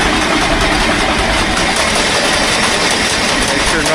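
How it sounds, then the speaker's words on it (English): A grain drill's auger runs on a farm while the machine is serviced for loading wheat seed, a loud, continuous mechanical rumble and rattle with no breaks. "I'm gonna just run the auger a little bit"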